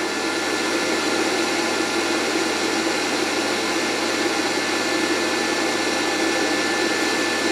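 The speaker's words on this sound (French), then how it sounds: "on entend le ventilateur du convecteur." A convector heater fan run from a solar generator blows with a constant, even whooshing rush and faint hum, unchanging throughout with no voices.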